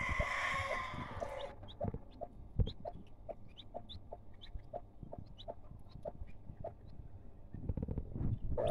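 A purebred hen clucks in short, evenly spaced calls, with soft peeping newly hatched chicks and light rustling nearby after a brief burst of noise.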